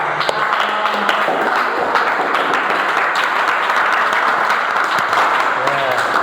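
A classroom of students applauds after a group presentation, brisk close clapping with sharp individual claps standing out, while voices chatter over it throughout.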